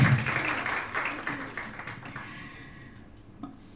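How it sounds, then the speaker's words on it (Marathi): A crowd claps at a Marathi book launch ceremony: a loud, dense round of applause at first that thins into scattered claps and fades out toward the end. "तर वाजवू शकता तुम्ही टाळ्या"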